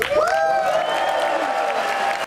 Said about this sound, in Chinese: 长达325秒的掌声